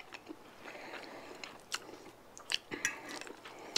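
Someone bites into and chews a forkful of chicken, smoked sausage and shrimp jambalaya close up, making soft wet crunches and a few sharper clicks, with no talking.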